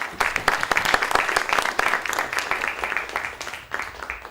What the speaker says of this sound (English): let's give the speakers a big round of applause.